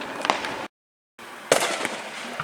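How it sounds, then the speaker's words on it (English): Fourth of July fireworks go off outdoors at night in several sharp bursts and crackles, split by a brief silent gap. "we're getting ready to watch some fireworks"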